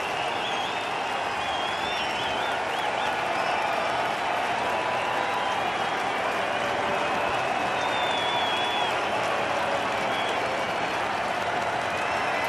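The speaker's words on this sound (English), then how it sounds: "Now we'll hear the crowd. Now they're standing." A packed baseball stadium crowd on opening day rises in steady, sustained applause and cheering, a dense wash of clapping and voices that holds at full level throughout, with faint whistles cutting through.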